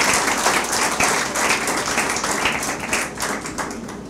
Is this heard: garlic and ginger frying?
no